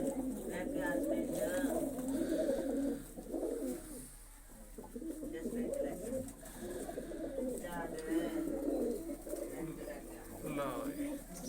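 Pigeons in a newly built, whitewashed coop, giving a continuous low throaty cooing that stays fairly loud and close, with people talking over it.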